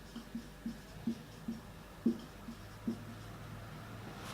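Marker or chalk strokes on a board during a biochemistry lecture, a series of short scratchy taps spaced irregularly, fairly close and faint against a quiet room.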